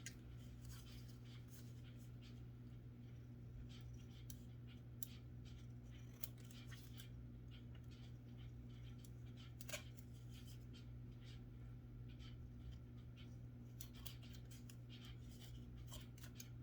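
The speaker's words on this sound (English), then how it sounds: "so now we'll just cut out the whatever is overlapping" Scissors snipping through cardboard backing for a flower arrangement, a string of quiet irregular cuts and rustles over a steady low hum, no talk.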